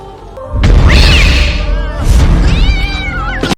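A cat in the film The Crow lets out two loud, drawn-out meows, each rising and falling, with a dull thump at the start and a sharp cut at the end.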